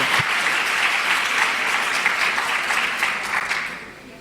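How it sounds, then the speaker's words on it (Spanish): Applause fills the room at a university teacher-training session on accessibility, a steady wash of clapping that carries on strongly before thinning out and fading toward the end. "Pueden aplaudir."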